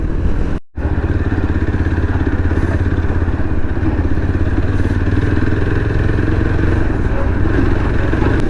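A motorcycle engine running on a long-distance ride from Mumbai to Leh Ladakh with the engine check light on, a loud, steady, close mid-pitched rumble throughout with one brief dropout near the start.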